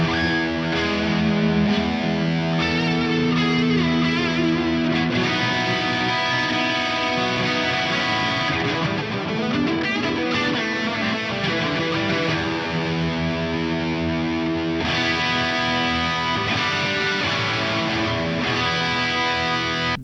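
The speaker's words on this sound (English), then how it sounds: "Let's add some distortion from the Axe effects and some delay again, and this is going to be a pretty wild kind of lead guitar sound." Electric lead guitar through a Boss SY-1000 with Axe distortion and delay, a loud sustained, saturated lead line with ringing repeats, playing continuously without pause.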